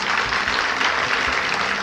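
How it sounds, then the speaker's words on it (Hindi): A crowd at a Shiv Jayanti programme at Vishwa Kalyan Sarovar in Sonipat claps continuously, a dense, even patter of applause throughout, moderately loud, with no speech over it. "तालियां बजा सकते हैं"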